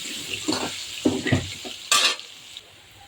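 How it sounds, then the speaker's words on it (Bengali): Potatoes and meat frying in a pan, with bursts of sizzling and stirring scrapes, a few soft clinks of cookware, and a brief loud hiss near the middle, close and without talk. "গোশের আলুগুলো একটু ভেজে নিই।"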